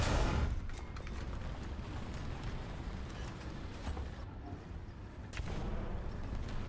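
Tank cannon rounds in a video game, a heavy broadband blast at the start and another near the end over a constant loud rumble of battle noise, with no talk.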